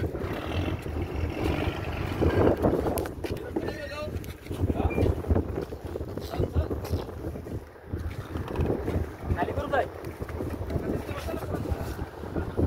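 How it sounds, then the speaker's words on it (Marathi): A fishing boat's engine rumbles on open water, a loud, low churning drone buffeted by heavy wind noise on the microphone, with voices talking over it at times. "बोट चालू करा."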